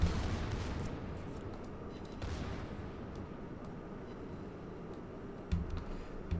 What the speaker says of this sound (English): I love the sound of these secondaries. They sound just so constant